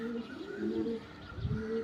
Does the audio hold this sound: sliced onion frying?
no